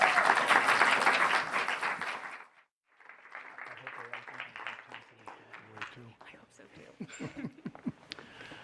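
Loud, dense applause from a summit audience welcoming the CUNY chancellor and a think-tank director, fading out after about two seconds, followed by a speaker talking at a podium.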